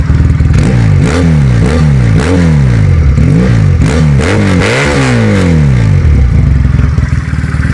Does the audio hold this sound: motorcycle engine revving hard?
yes